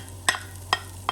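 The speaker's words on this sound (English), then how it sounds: "Fry the preserved mustard greens without oil for about 5 minutes to expel all the water." Preserved mustard greens dry-fried in a pan without oil, with three short, sharp spatula scrapes or tosses spaced evenly over a quiet, steady background.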